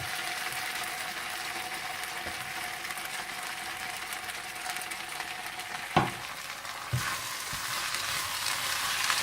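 Beef sizzles in a pan with capsicum and green onion, a steady loud hiss that continues throughout, broken by a couple of sharp clacks of a utensil stirring near the end, with no talking.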